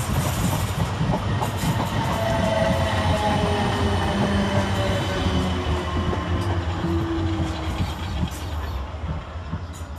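A South Western Railway Class 444 electric passenger train rushes through Clapham Junction station at speed, a steady loud roar of wheels and motors with rhythmic rail clatter, close by for the whole stretch.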